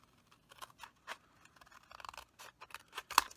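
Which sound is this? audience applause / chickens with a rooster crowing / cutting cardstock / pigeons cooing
cutting cardstock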